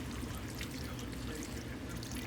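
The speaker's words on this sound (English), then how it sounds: "So you can go ahead and add some water." Continuous splashing stream of water pouring into a cooking pot for green beans, steady and moderately close, with no talking.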